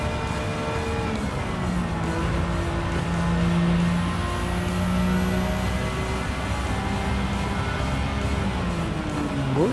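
A 1994 Nissan Skyline R32 GT-R drifting in a racing game, its engine holding a steady droning whine with shifting pitch, tyres and road noise underneath, continuous and fairly close without talk.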